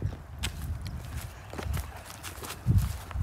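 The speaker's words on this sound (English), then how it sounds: "I'm on my horse right now. We're going on a trail." A horse walks along a trail with irregular, muffled hoof thuds, mixed with rustling and handling noise close by.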